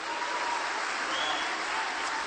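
A church congregation breaks into applause during a sermon, a brief, dense burst of clapping heard close and steady from start to end.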